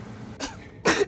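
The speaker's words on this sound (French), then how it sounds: "Un personnage qui tousse." A character in the horror game Dream of the Blood Moon coughs twice, a short throaty cough followed by a louder, harsher one, close and clear over a low background hum.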